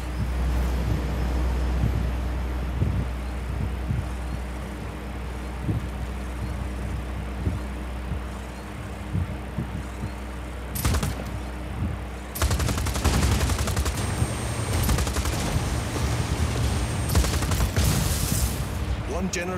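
Gunfire in the video game Just Cause 4 as a player shoots at a generator: sharp shots through the first half, then a denser, louder burst of rapid fire, all over a steady low game rumble.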